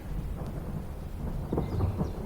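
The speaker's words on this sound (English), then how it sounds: "A rumble rolled through the sky" Thunder rolls across a stormy sky in a low, continuous, fairly faint rumble, with no distinct sharp crack and no voices.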